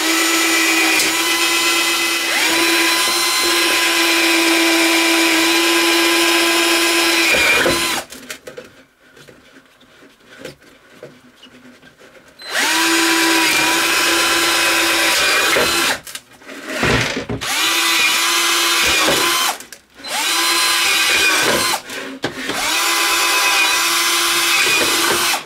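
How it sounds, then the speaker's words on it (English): A power drill with a quarter-inch bit boring holes in plastic dollar-store flower pots, loud sustained whining runs broken by short pauses and quick stop-start bursts near the end. "I just got a quarter inch bit for the drill gun"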